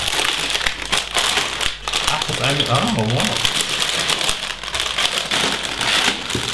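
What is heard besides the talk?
plastic LEGO set bags crinkling while unpacked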